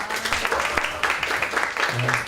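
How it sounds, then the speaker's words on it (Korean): A forum audience gives applause as a high school student speaker is introduced, a crowd of hands clapping steadily and fairly close, with a voice speaking over it briefly near the end. "박수 보내겠습니다."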